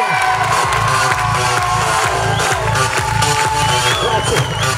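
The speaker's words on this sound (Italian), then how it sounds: "farei un grossissimo applauso al capo villaggio Spillo" A theatre audience at an Italian Peter Pan musical cheers, whoops and claps for the village chief Spillo. The crowd noise is loud and continuous throughout, and a steady rhythmic musical beat runs underneath it.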